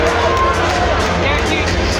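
A junior hockey arena crowd murmurs in disapproval during a Mississauga Steelheads at Erie Otters game, a loud, steady babble of many voices with a commentator talking over it.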